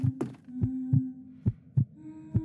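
Heartbeat effect from the Roblox horror game The Mimic as the monster closes in: low, thumping pulses in an uneven run of six or so beats over a steady hum, loud and close.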